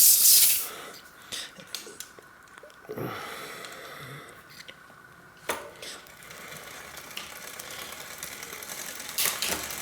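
Small, crisp mechanical clicks from a road bike gear shifter during a drop bar to flat bar conversion, scattered and close-up over a quiet hiss, with no speech.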